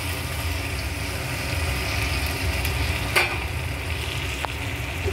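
Potatoes go into spice masala frying in oil, producing a continuous, fairly loud sizzle with low bubbling underneath, a couple of sharp utensil clicks, and no speech.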